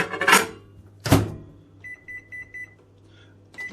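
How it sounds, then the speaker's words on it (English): Two loud bangs of handling, then a steady string of short electronic beeps in a regular rhythm from a microwave oven running, and a final beep near the end, all fairly close. "Place it in the microwave for 40 seconds"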